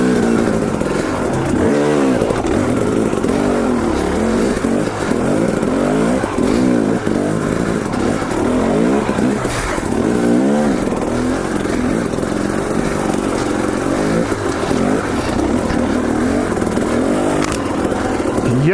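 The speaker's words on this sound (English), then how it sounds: "I'm going to compress the suspension and then use the power of the bike to unload and come up around" A KTM 250 XC dirt bike revs repeatedly in sharp bursts while clambering over a rocky obstacle, the engine loud and close with clattering and scraping throughout.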